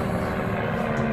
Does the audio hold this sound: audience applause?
no